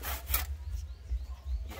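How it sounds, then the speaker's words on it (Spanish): A hand saw cuts through a thick lemon tree branch, giving a few soft rasping strokes that sound close but quiet. "Seguimos ayudándonos de una sierra."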